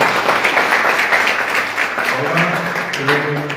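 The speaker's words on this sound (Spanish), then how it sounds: "quiero pedirle un aplauso para todos ustedes." Audience applause at a Guarani language and culture tribute gathering, a steady wash of clapping from a hall crowd lasting a few seconds, with some voices mixed in toward the end.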